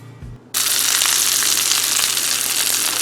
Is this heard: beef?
yes